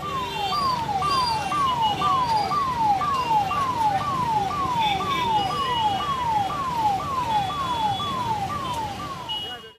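An ambulance carrying a patient, stuck in a road-junction traffic jam, sounds its siren: a rapid, repeating falling wail, loud and continuous, over a busy street with traffic noise underneath.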